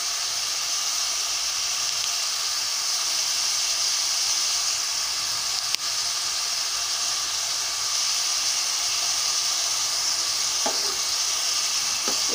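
Two green chillies frying in hot oil with onions for egg curry, giving a steady, loud, even sizzle and hiss that holds for the whole stretch, with a faint stir or clink near the end.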